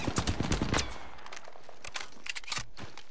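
Rapid bursts of video game gunfire crack out in a tight volley, loud and close, then thin into scattered single shots amid quieter game noise.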